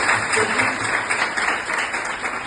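Steady applause from a crowd at a motivational speech, dense and continuous throughout, with a faint murmur of voices underneath.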